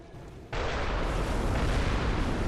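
A loud cannon blast in the game Bloodborne erupts abruptly and gives way to a sustained, heavy rumbling roar of explosion and debris that fills the rest of the moment.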